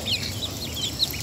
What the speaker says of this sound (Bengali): এই যে এটা ক্যাম্বেল হাঁসের বাচ্চা